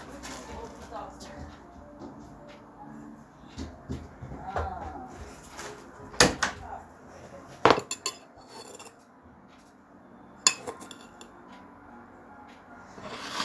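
A spoon adds sugar to lime lemonade, with a few sharp metallic clinks against the glass or jug standing out over a low background where someone talks.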